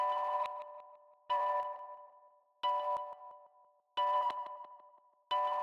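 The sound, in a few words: guitar harmonics chopped up with added echo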